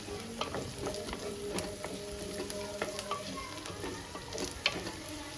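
Curry leaves dropped into hot oil for a kohlrabi kurma, a steady soft crackling sizzle with scattered pops and faint stirring clinks, close and without talk.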